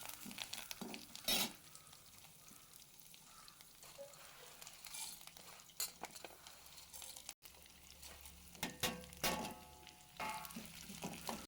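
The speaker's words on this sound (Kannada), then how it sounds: "ನಂತರ ಒಗ್ಗರಣೆಗೋಸ್ಕರ ಈರುಳ್ಳಿ ಮತ್ತು ಕರಿಬೇವು, ಈ ಎಲ್ಲ ದಿನಸುಗಳನ್ನ ನಾನು ಫ್ರೈ ಮಾಡ್ಕೊಳ್ತಾ ಇದ್ದೇನೆ" Onion and curry leaves frying in hot oil for tempering, a steady soft sizzle with occasional stirring scrapes and clinks of a pan, fairly quiet.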